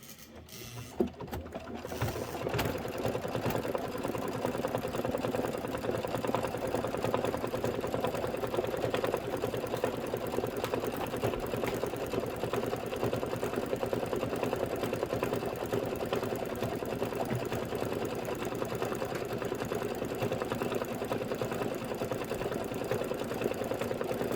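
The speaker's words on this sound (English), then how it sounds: "And the last step is going to be the decorative stitching, and we have the right color in. And just go ahead and let it stitch away." A sewing machine runs a long, steady pass of decorative stitching, its even mechanical whir and rapid needle rhythm continuing unbroken and moderately close after a brief clatter at the start.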